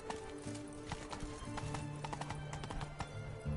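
Roach the horse in The Witcher 3, rhythmic clip-clop of hooves at a steady trot with a brief whinny, close and continuous.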